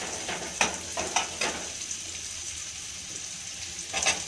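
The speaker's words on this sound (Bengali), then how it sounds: "দেখুন আমার মাছগুলো কি সুন্দর লাল করে ভাজা হচ্ছে" Small bhola fish fry in oil in a pan, giving a steady sizzle. A few sharp clinks and scraping stirs sound early on and again just before the end.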